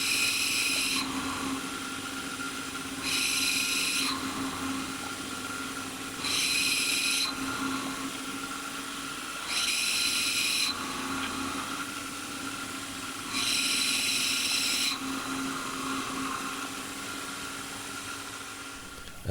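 A CNC machine with a long 4mm bit mills fins into an aluminium motor heatsink, the spindle hum rising into five bright cutting bursts of one to two seconds each, evenly spaced over a steady machine drone, with no talking.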